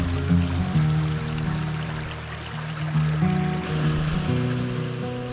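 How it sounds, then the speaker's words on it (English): A small waterfall on a creek on rural off-grid property, a steady rushing and splashing of water that stays moderately loud and continuous, with tonal hum layered beneath. "this little waterfall is the highest point of the creek on this side of my property"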